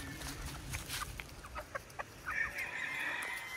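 Newly bought pullets, pure-bred hens of two bloodlines, cluck in short, scattered calls close by on a farm. A brief louder squawk rises near the end over a low rumble of handling noise.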